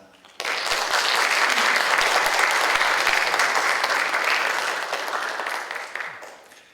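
Audience applause welcoming a guest speaker at a Korean church gathering, a dense sustained wash of clapping from a large crowd that starts abruptly, holds steady and slowly tapers off, with no talk over it.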